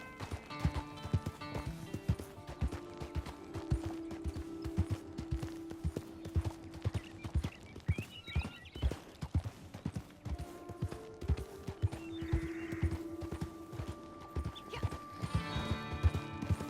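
Steady clip-clop of horse hooves trotting throughout in the video game Red Dead Redemption, rhythmic and even, over a droning musical background with occasional tones.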